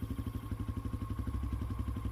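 Motorcycle engine pulling hard with a steady pulsing throb and rattly clatter, continuous and close, no voices.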